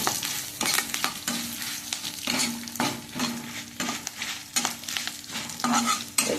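Udupi-style jackfruit basale curry sizzles in hot oil while a spoon stirs it, with steady frying hiss broken by repeated scraping strokes against the pan at close range and no talking.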